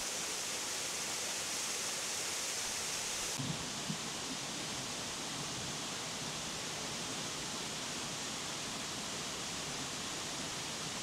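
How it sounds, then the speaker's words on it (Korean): Valley stream water tumbles beside a simple steel-frame footbridge on a forest trail, a steady, dense rushing roar that fills the whole stretch without pause, close and constant. "옆으로 계곡물이 낙하하는 소리가 어찌나 시원하던지요"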